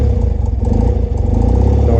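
A cold BMW R90S flat-twin motorcycle idles with a deep, throbbing rumble and gets a light blip of throttle. The loud, steady engine pulse fills the whole moment.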